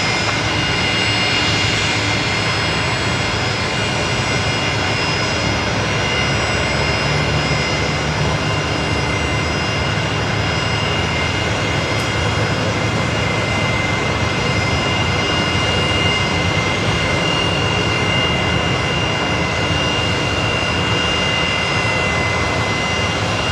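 A jet airliner with Rolls-Royce engines comes in to land on runway 19 left at Brisbane Airport, giving a steady, loud, broadband roar that holds for the whole stretch with no talk over it.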